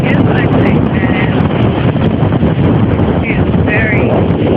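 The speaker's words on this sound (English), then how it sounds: "The wind's picking up pretty bad." Strong wind roars continuously into the microphone outdoors near a small tornado, a loud, buffeting rumble that fills the whole clip with brief whistling gusts on top.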